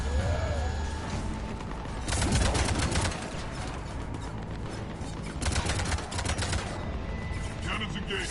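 Ship cannons fire in Mass Effect 3 as bursts of rapid booming shots. Two dense volleys stand out over a rumbling battle backdrop with scattered game sounds.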